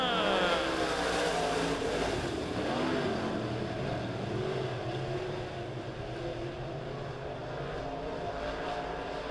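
Dirt track race cars roar around Springfield Raceway in a Malvern Bank Cash Money Dirt Series heat race, engines droning loudly and continuously from a green-flag start with a steady, dense rumble.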